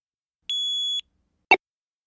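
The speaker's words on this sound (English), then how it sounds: "Just then, they hear a loud beep." A handheld video game gives one loud, clear electronic beep lasting about half a second in otherwise quiet surroundings, followed by a brief short click.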